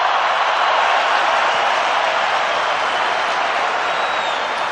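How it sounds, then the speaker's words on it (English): A cricket stadium crowd at an Australia versus South Africa match roars and applauds in a dense, unbroken wash of noise that stays loud and steady throughout. "Listen to the crowd."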